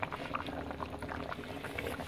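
Coconut milk boils in a pot for sayur lodeh, soft bubbling pops and gurgles sounding close and steady without any talking.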